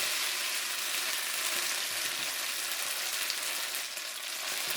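Bulgogi beef fries in a hot pan over medium heat, giving a dense, continuous sizzle and spatter, steady and close, with no speech.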